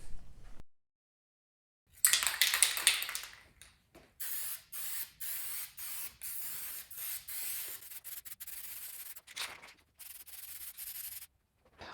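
Ace Premium satin enamel paint and primer is sprayed onto a car's firewall bulkhead lip in short, close hissing bursts separated by pauses, with a longer spray near the start.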